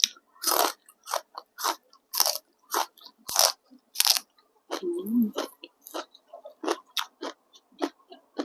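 Loud, close crunching bites of spicy Thai papaya salad with khanom jeen rice noodles, crispy pork rinds and snails, about a dozen sharp crisp chews in an irregular rhythm with brief pauses between.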